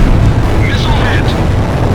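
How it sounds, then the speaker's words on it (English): A missile strikes its target in Ace Combat Zero, a loud, broad roaring blast that fills the whole moment, with a voice briefly heard over the rumble. "Missile hit."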